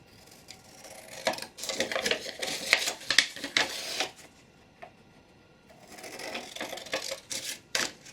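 Scissors cut a paper image out of a vintage bookpages journal kit in bursts of crisp snipping and rustling paper, close by, with a quiet pause midway before more cutting.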